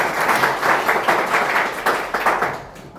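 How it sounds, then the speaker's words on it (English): An audience at a lecture gives a brief round of applause, steady close clapping for about three seconds before tapering off. "Please give a round of applause."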